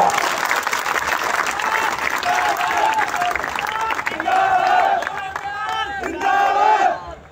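A rally crowd at a Bhagwant Maan event in Gidderbaha erupts in loud applause and cheering, with shouted slogans and voices rising over sustained clapping before it fades.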